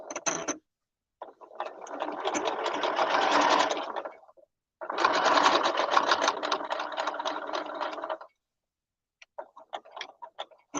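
A sewing machine stitches a fuzzy blanket in two long bursts of rapid mechanical clatter separated by a pause, then a few short stuttering stitches, moderately close with no talking.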